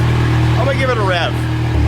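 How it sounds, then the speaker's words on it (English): A big-turbo VW GTI with a full custom exhaust and its middle muffler cut off idles with a low, steady rumble, then rises in one quick rev and settles back to idle, loud and close. "I'm gonna give it a rev."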